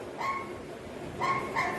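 A human voice imitates a dog barking for a hand shadow puppet, with two short clusters of barking yips close and clear over a quiet room.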